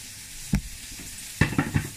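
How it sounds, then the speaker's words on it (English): Spinach drops into a hot pan with two bursts of crackling sizzle, the second followed by a few shorter pops over a quiet background. "I'm going to drop in some spinach."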